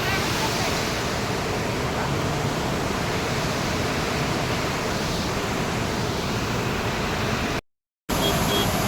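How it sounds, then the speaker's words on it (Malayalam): A powerful muddy monsoon waterfall at Cherrapunji roars as a dense, constant wash of noise, loud and unbroken apart from a brief dropout near the end. "ഇത് ചിറാപ്പുഞ്ചിയിലെ വെള്ളച്ചാട്ടം നോക്കിയേ."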